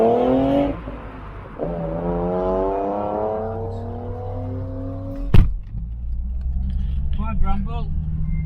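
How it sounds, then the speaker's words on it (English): A Ford XR4i with a Cosworth V6 pulls away, its engine rising through rev sweeps before settling, with a sharp knock partway through and people talking nearby. "got some good footage of him setting off in the XR4i, Cosworth, V6"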